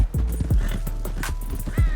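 Horse hooves clop in a video game, a close, even run of sharp footfalls repeating about every quarter second with nothing else over them.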